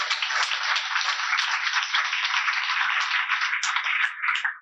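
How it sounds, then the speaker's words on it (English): Audience applause at an association's annual meeting, a steady dense burst of clapping from a crowd that holds level for several seconds and thins slightly near the end, with no talk over it. "So let's give Jacob a round of applause."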